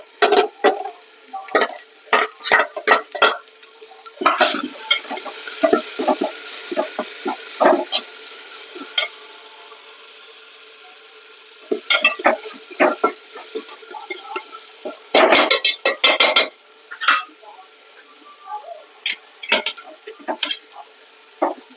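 Tomato stirred into capsicum and onion frying in oil, with bursts of sharp scraping and clattering from a spoon in the pan between quieter sizzling stretches, close and loud.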